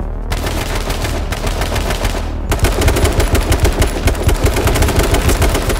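Rapid automatic gunfire in the battle royale video game H1Z1, with loud sustained bursts that break off briefly and then resume as a dense, continuous rattle, heard alone without talk.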